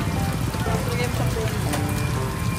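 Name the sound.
heavy rain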